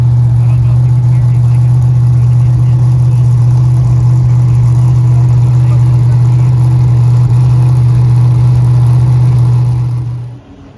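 An orange mid-engine car with an LS V8 runs at a steady, loud, deep drone for about ten seconds before cutting off abruptly.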